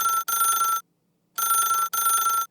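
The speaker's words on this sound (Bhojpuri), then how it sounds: "अजाई फोन लगाओ जा।" Outgoing-call ringback tone on a telephone, two double rings separated by a short silence, clear and steady with no voices over it.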